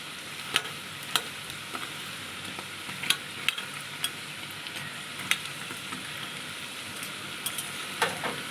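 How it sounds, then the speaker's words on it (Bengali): Leaves sizzle and crackle steadily in hot oil, broken by periodic sharp clicks of stirring against the pan. "বেশ কড়া করে ভেজে নেব লাল লাল করে"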